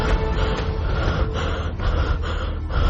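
Heavy, ragged panting from someone out of breath after running, close and continuous with rhythmic gasping inhales and exhales, no speech.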